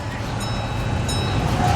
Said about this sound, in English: As this train comes around the tracks